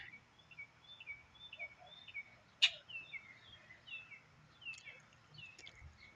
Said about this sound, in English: I may have to kill all of these fucking birds